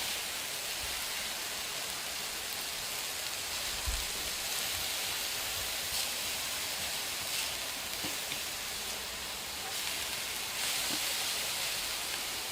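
Philly steak sizzling in a hot pan, a steady close hiss of frying that holds evenly throughout with a few faint taps, no voices.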